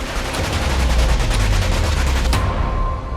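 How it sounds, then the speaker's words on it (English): Rapid gunfire rattles loudly and continuously, dense bursts of shots over a heavy low rumble. "Is it shooting bullets or?"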